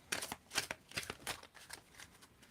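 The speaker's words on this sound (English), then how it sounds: "One more shuffle" Playing cards are shuffled up close in quick bursts of crisp riffling and flicking, a short pause in the middle, then a softer series of snaps.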